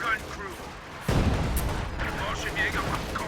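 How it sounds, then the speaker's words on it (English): A high explosive artillery barrage in the video game Company of Heroes 2, with a sudden heavy blast followed by rumbling impacts and crackling debris, under quieter game sounds. "Oh, is this high explosive barrage?"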